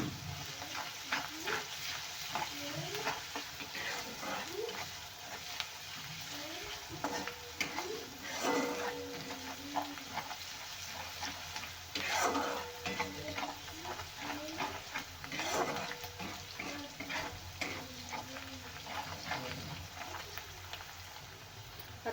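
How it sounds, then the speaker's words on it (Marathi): Ginger, garlic and coriander paste fries in oil for a mixed vegetable dish, a steady dense sizzle with frequent scraping stirs and clinks throughout, close and moderately loud, with no talk. "आलं लसण आणि कोथिंबीर मी वाटून घेतलेली होती पेस्ट ती घातलेली आहे अर्धा चमच ती छान तेलात भाजून घेऊया"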